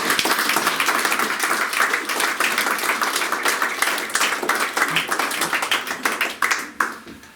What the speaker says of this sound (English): we really should have a huge round of applause